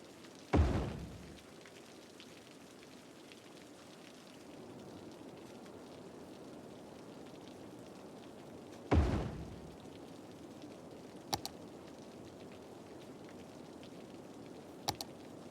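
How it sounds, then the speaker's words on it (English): Steady soft rain hisses throughout, broken by two heavy thuds and a couple of sharp clicks, with no voices; rain in the video game Cities: Skylines. "The sound of rain is soothing."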